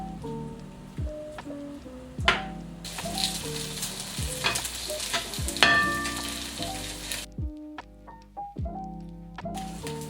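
Tofu sizzles in olive oil in a pan, a steady crackling fry close to the mic with occasional stirring scrapes and clatter, the hiss dropping away briefly near the end.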